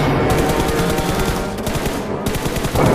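Gunfire in the battle royale game PUBG, rapid automatic bursts sounding close and loud almost continuously, with a brief gap and then more shots.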